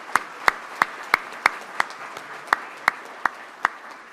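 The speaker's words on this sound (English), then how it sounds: "Let's give our guests a big round of applause." Sparse, evenly spaced single claps ring out at a Rotary Club of Tulsa meeting as guests are welcomed, about a dozen sharp hand claps in a slow rhythm over a quiet room.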